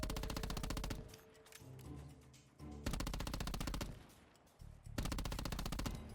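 Rapid automatic gunfire from a Black Ops 4 spray pattern demo: three loud sustained bursts of closely spaced shots, separated by brief pauses with echoing tails and mechanical clatter.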